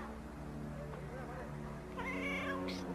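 A house cat meowing near food set out on a table, with faint meows over a low steady hum, building to a louder rising meow near the end.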